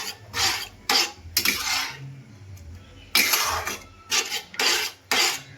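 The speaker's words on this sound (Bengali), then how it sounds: "সিদ্ধ করে রাখা তড়কার ডালটা আমি দিয়ে দিলাম। এটা ভালো করে মশলার সঙ্গে মিশিয়ে নেব" A spoon scrapes and clatters against a pan while boiled tadka dal lentils are stirred into cooked spices, giving about eight short, bright bursts in an uneven rhythm with quiet gaps between them.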